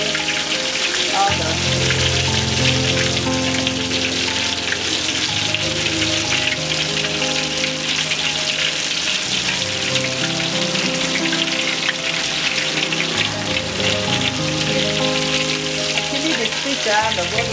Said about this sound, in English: some people like to fry, but I fry